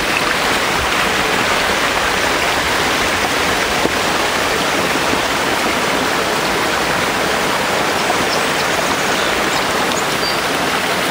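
Rushing water from a hiking-trail stream or waterfall flowing toward the Grand River, a dense, steady broadband roar that holds evenly loud and close for the whole stretch, with no voices.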